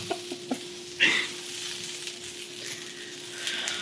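Food frying in a pan gives a steady soft sizzle with faint crackles and a brief stir or scrape, fairly quiet and close, with no talking.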